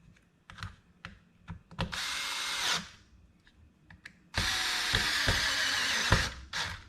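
A power driver tightens screws on an RC car in two whirring bursts, a short one and a longer one, separated by light clicks and handling taps, close and fairly loud.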